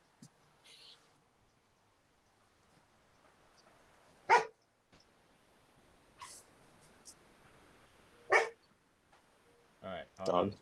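A dog barks several times indoors in short, separate bursts spread over several seconds, against a quiet room background with faint breathing-like noise between barks.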